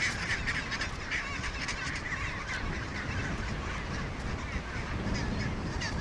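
Gentoo penguins call continuously at their nests of sticks and stones, producing a dense, honking, braying chorus of overlapping voices that stays loud and close throughout.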